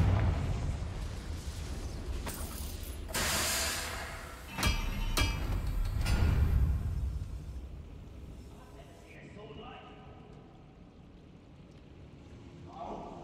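Confringo, an explosive blast spell in Hogwarts Legacy, bursts in loud booming waves amid in-game noise, with several strong blasts early on that fade into a quieter rumble.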